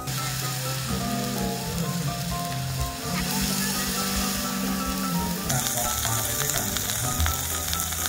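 Continuous sizzling of pork frying on a Thai tabletop grill at a dinner at a Khao Kho campground hotel, crackling and popping up close, with faint background murmur.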